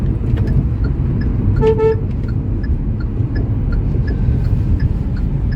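A Hyundai i10 Nios car gives one short, loud toot of its horn while being driven, over a steady, heavy rumble of road and engine noise.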